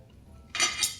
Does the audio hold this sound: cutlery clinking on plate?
yes